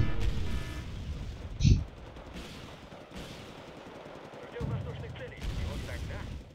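Video game gunfire and artillery from an enemy attacking a forward base: scattered bursts of shots and one sharp nearby blast, with quieter rumbling between and a voice talking faintly at times.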